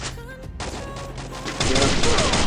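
Gunfire in the battle royale game Free Fire, with loud, close shots and a dense burst of rapid fire cutting in over the game's tonal background sounds.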